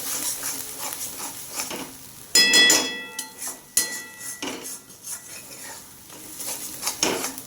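A spatula stirs a mash of drumstick leaves and sesame in a pan, producing close scraping and sharp metallic clanks against the pan over a light sizzle, with a few louder ringing knocks.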